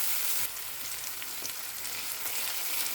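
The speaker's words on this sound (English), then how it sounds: "In a heated pan with cooking oil, let's sauté the garlic and onion." Minced pork with garlic and onion sautéing in hot oil, a dense continuous sizzle with faint stirring ticks, close and steady throughout with no voices.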